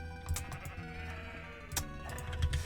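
Sheep in the Minecraft video game give a few short bleats over looping background music, with faint clicking sounds scattered throughout.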